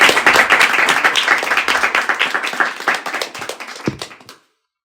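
An audience at a talk gives a round of applause, dense steady clapping near and loud that tapers off and stops before the end.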